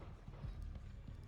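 In Sherlock Holmes: The Devil's Daughter, a horse's hooves clip-clop faintly in a short, uneven run of soft knocks against a low background rumble.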